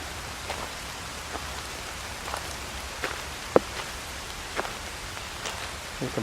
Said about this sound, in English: You can probably hear the rain on the canopy here.